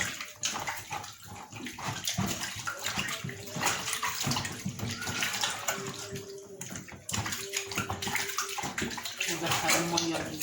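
Tap water runs steadily and loudly over raw chicken being washed in a kitchen, splashing continuously while a voice talks at times.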